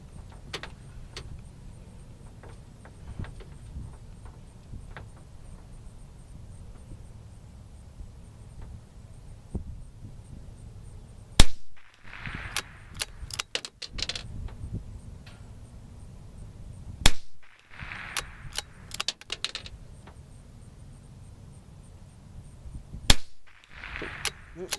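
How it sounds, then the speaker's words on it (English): Shots from a Savage Mk II FV-SR .22 rifle fired at a 100-yard range, heard as four or five sharp cracks spaced several seconds apart, each followed by a short echo. "Take a couple of shots first, and I'll point the camera down range."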